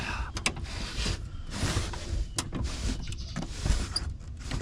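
Power window on a Ford LTD running after a fresh window felt install, a steady motor whir with the glass sliding smoothly and no rattling, close by with a few short knocks.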